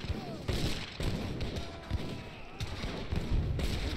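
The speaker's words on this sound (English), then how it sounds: "Destroy the fucking cannon." Cannon fire in the Age of Empires 3 Definitive Edition campaign battle: repeated dull booms and thuds at irregular intervals over a busy, muffled battlefield din.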